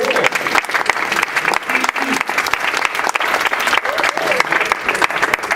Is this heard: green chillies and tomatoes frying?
no